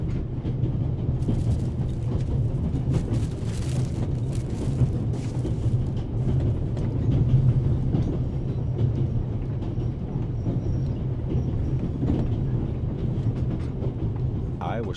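In The Raven Remastered, a train rumbles steadily along its rails, a dense, constant low roar with faint rattling and clatter, heard from inside the carriage throughout.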